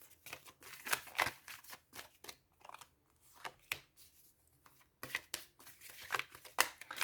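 Tarot cards are shuffled softly and close by for a nine-card reading, an irregular patter of light papery slaps and flicks in quick clusters with short pauses.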